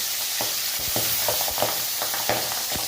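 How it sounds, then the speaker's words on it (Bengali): Pabda fish rubbed with salt and turmeric fry in hot oil with a loud, dense sizzle, broken by quick popping and tapping bursts, close up and without voices. "এবার গরম তেলে আমরা মাছগুলো ভেজে নেব।"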